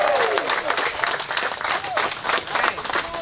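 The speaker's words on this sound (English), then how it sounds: "So please put your hands together for our Queens District Attorney, Melinda Katz." An audience at a Queens community event applauds a district attorney being introduced, dense steady clapping from a crowd throughout, with a few voices faintly audible underneath.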